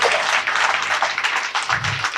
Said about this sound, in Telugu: అయితే గట్టిగా చప్పట్లు కొట్టండి.